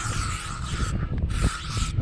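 Insect repellent is sprayed against mosquitoes outdoors in Florida in two close, continuous hissing bursts, each about a second long, with a short break between them.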